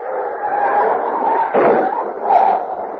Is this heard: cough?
no